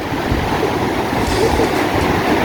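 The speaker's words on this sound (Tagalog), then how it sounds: "maganda yung alon, malakas yung alon" Strong surf rolls in at a surfing beach on Badoc Island, Ilocos Norte, a steady loud roar of breaking waves with wind buffeting the microphone and no break in the wash.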